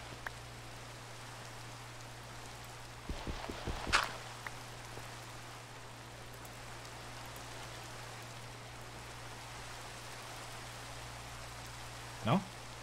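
Rain falls in the Minecraft modpack SevTech Ages as a faint, steady hiss over a constant low hum, with a few brief louder taps and a soft rustle standing out.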